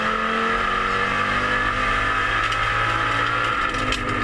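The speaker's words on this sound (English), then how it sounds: "Awesome sounding car. 5-cylinder engine out in front." A 5-cylinder Audi TT touring race car accelerates hard during a circuit race at Sydney Motorsport Park, a loud continuous buzzing engine note, close and unbroken, with no voices.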